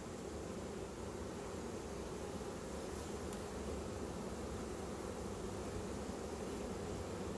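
Honeybees hum in a hive of a captured swarm in a steady, low drone close by, a constant buzzing texture with no voices.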